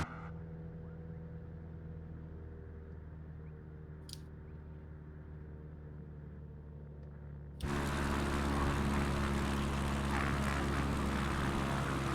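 A light propeller plane's engine drones steadily in flight on a slow approach, then rises abruptly to a louder, fuller roar partway through as throttle is added, with no talking.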